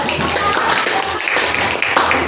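A classroom of students applauding their classmates after a group presentation, dense and steady clapping throughout, loud and close.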